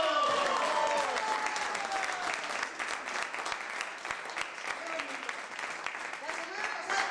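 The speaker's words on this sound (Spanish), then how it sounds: "¡Fuerte la aplauso!" Lively applause and cheering from a crowd in a Mexican bar, loud at first and then easing into a steady patter.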